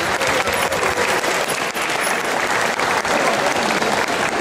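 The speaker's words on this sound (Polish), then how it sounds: "Naprawdę wielkie brawa dla tych wszystkich, którzy ubrali się dzisiaj stosownie do uroczystości." Dense, steady applause from an audience at a school Independence Day centenary celebration, a continuous loud crackle of many hands filling the space without letting up.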